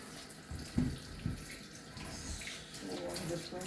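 Tap water runs steadily in a kitchen sink while fruit is rinsed, a continuous soft wash of splashing with a few louder splashes, heard close and fairly quiet.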